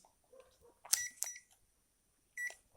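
A digital multimeter gives short electronic continuity beeps while testing a low-resistance resistor on a TV power supply board, with two close chirps and a third after a pause, among faint handling clicks.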